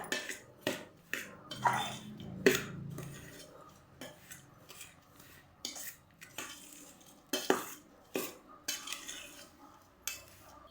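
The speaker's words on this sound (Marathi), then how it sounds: "आता हे आपण मिक्स करून घेऊया." A spoon scrapes and clinks against a metal bowl while sweet karanji filling is mixed, giving irregular close knocks and scrapes spread across the stretch with short pauses between them.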